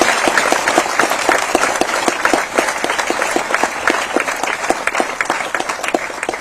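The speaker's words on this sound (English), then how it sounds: "Give a big round of applause." Loud, sustained applause from a large crowd at a National Voters' Day 2024 event in Chennai, steady clapping for a prize winner that continues throughout.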